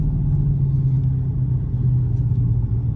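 A 2023 Dodge Charger R/T with a Hemi engine rumbles steadily while driving, a deep, continuous low drone that stays close and even, with no voices over it.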